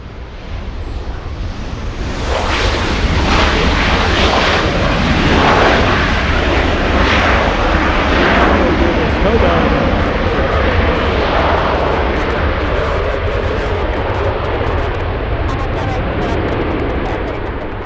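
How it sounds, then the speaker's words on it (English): An Airbus A350 airliner departs LAX for Paris, its engines roaring loud and steady as a broadband rush that swells after a couple of seconds and holds throughout. "Alright, that's the A350 flying to Paris."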